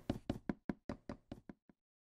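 Ladders being placed one after another in Minecraft, about eight quick knocking clicks in an even rhythm that ends with a softer final tap, close and clear with no talking.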